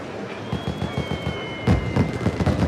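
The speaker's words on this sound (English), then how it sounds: "Put those fireworks away." Fireworks crackle and pop in The Great Ace Attorney video game, a steady run of rapid bursts with a faint whistling tone above them and a louder flurry near the end.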